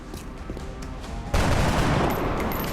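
Video game gunfire in XCOM: Enemy Unknown: a sudden loud burst of shots erupts after a quiet lead-in, with rattling, echoing fire continuing to the end.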